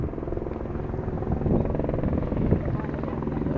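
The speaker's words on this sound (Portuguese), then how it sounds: "O helicóptero vai fazer mais uma órbita." A helicopter circles low for another orbit before attempting to land, its steady thudding rotor and engine roar running continuously and loud throughout, with a slight swell midway.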